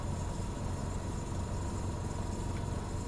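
Class 150 diesel train engine in the Train Sim World 2 game, a low steady rumbling drone, constant and moderately quiet, no one speaking over it.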